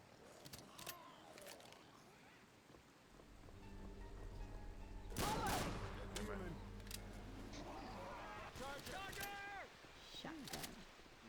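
Gunfire in the Left 4 Dead 2 campaign Dead South on Expert difficulty, a dense burst of shots around the middle over a droning game soundscape, with scattered sharper cracks later and players talking throughout.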